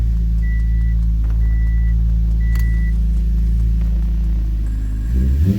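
A Subaru Impreza with an H6 engine, a lightweight flywheel and a swapped transmission idles with a deep, steady, close rumble. Short electronic chimes ring out a few times, and the engine note climbs briefly near the end.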